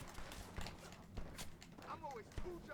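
Horse hooves clip-clopping in the western video game Red Dead Redemption, a steady run of soft hoofbeats with a few sharp thuds, mixed with game effects and talking over the top.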